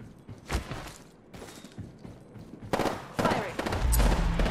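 Gunfire in Apex Legends heard in uneven bursts among footsteps and thumps, growing louder and denser toward the end, with a voice speaking over part of it.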